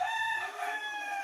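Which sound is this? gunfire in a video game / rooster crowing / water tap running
rooster crowing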